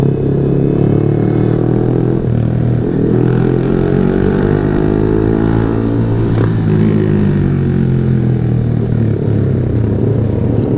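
Motorcycles speed along the road while a Yamaha R15 V3 2020 is ridden, its loud, continuous engine drone filling the clip, with one vehicle swelling past around the middle.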